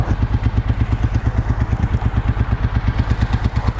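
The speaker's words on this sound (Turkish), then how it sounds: "Gayet nizami bir rölantisi var." A 1998 Suzuki Marauder 800 twin-carburetor custom motorcycle idles up close with a muffled exhaust, an even, rhythmic thumping putter, steady and loud throughout.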